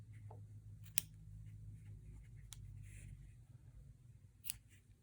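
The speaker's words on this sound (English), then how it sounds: "I'm going to cut these strands," Tiny scissors snip strands of yarn on a knitted swatch in a few sharp, isolated clicks spread out over a quiet, low hum, close by and faint.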